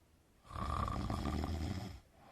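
A single long, rough snore rumbles close and fairly loud for over a second, a deep raspy breath that fades out, with no talking around it.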